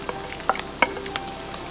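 Quiet sizzling of beans and carrots frying in a pan for chicken fried rice, with a few sharp clicks and pops of food being stirred, no voices.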